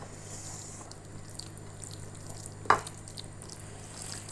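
Hands knead mashed tomato and egg bharta with mustard oil, making soft, wet squishing and smearing sounds at low volume, with one brief sharper squelch partway through and no talking.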